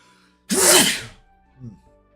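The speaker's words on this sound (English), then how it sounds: "Oh, I'm about to sneeze." A single loud, sharp sneeze bursts out close up, followed by a softer short exhale, with quiet silence around it.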